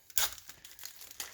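Crinkling of a yellowed cellophane pack of 1988 baseball cards, a few short crisp crackles close by, one louder burst at the start and softer rustles after.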